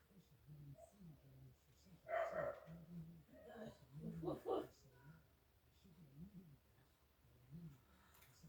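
Next door, a dachshund barks with shrill, screeching yips in a few loud bursts, while a person talks over much of it indoors.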